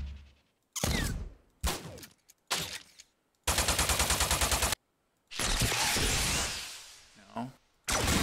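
Grenade sound effect cues for a sci-fi video game project, played one after another as a series of loud separate bursts with sharp attacks, some ringing and sustained, with short silences between them.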